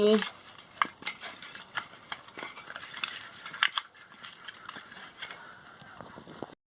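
A fish head is mixed with salt and turmeric powder in a bowl, making soft irregular clicks and scrapes of utensil and hands, with a faint voice-like squeak at the very start.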